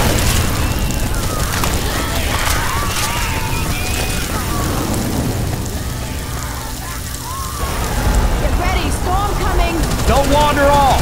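A bomb blast in the GoldenEye 007 game booms amid a noisy stretch of gunfire and game effects, with voices calling out over the chaotic, loud battle sounds.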